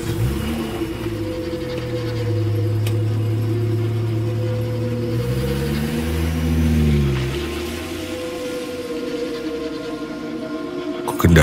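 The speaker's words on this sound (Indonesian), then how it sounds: "Ku kendarai mobilku sangat kencang hingga akhirnya aku sampai di rumah." A car driven fast, its engine holding a steady drone with pitch swells as it revs and accelerates, rising and falling again around the middle, continuous and fairly close with no voices.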